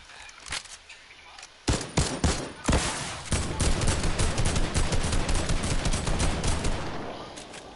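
Rapid bursts of gunfire in the video game Fortnite, with a few separate shots followed by sustained automatic fire, loud and close, with faint talk underneath.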